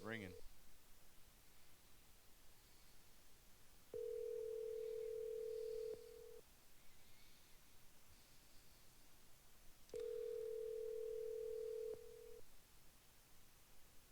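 An outgoing telephone call rings back on the line, giving two long, steady ring tones roughly six seconds apart over a faint, quiet background.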